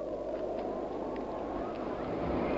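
Wind in the horror game Poppy Playtime Chapter 3 blows as a steady, low rushing drone with a soft hollow roar throughout, no gusts breaking the even wash of sound.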